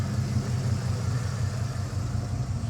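A 1996 Ford F150 4x4 engine with 220,000 miles idles steadily, a low, even rumble with no talk, close and fairly loud.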